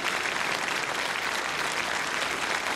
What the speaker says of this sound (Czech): Hradčanským náměstím zní potlesk